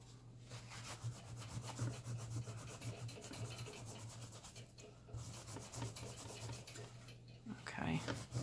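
A paper towel dampened with alcohol is rubbed to wipe residue off computer parts. It makes a continuous soft, close scrubbing and rasping sound with a steady rhythm and a low hum beneath, and there is no speech.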